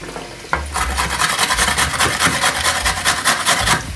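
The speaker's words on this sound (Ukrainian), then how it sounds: "За цей час я натру моркву" Steady rhythmic scraping and rasping as a carrot is rubbed quickly against the large holes of a coarse grater, close by with no talking.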